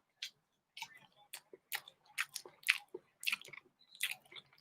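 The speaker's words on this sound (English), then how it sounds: "You don't like listening to me chew?" Close, crunchy chewing of chicken wings during a boxing livestream, a run of irregular wet bites and munches spread across several seconds with no talk over them.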